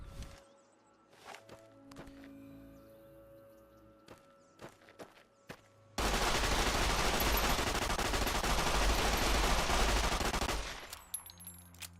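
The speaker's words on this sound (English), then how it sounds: "A unique 9mm submachine gun." Vance's unique 9mm submachine gun in Fallout New Vegas firing a long, rapid, continuous burst for several seconds, preceded by scattered footsteps and clicks, then sparse knocks after the burst ends.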